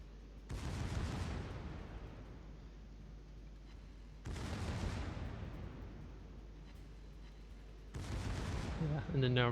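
Warship secondary guns in World of Warships fire in three heavy booming volleys, each a deep blast with a rumbling tail, spaced several seconds apart over faint background noise.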